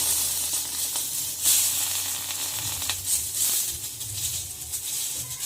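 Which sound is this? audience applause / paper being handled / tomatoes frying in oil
tomatoes frying in oil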